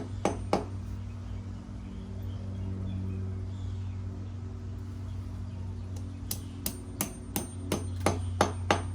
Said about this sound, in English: we're just going to take the hammer and just kind of gently tap them in until they're flush with the wall